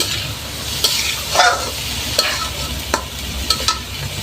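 Small fish and ash gourd stir-fried in a pot over a clay stove, with a crackling sizzle and irregular scraping strokes of a spoon, close and fairly loud.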